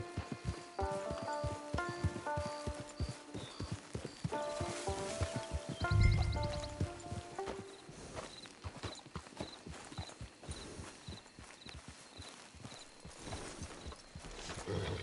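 A horse's hooves clip-clop near a camp, a steady rhythmic walk of hoof strikes over ground, moderately close, with a brief snort or whinny partway through and music playing underneath.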